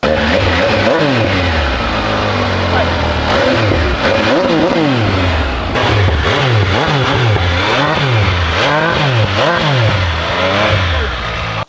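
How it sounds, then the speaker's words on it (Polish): An MV Agusta Enduro Veloce adventure motorcycle accelerating hard through a series of gears, its engine rising and falling in repeated loud revving sweeps, close up and continuous. "Każde wyjście z zakrętu sprawia, że chcesz odwinąć do końca tylko po to, żeby móc słuchać, jak ten silnik gada."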